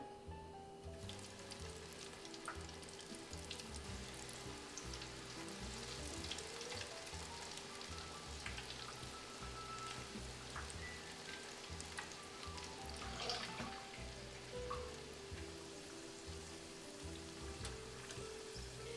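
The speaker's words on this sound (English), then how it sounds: "Make sure when you're frying them not to poke them too much" Steady crackling sizzle of potato balls frying in hot oil, dense and continuous for the whole stretch, with occasional faint clinks.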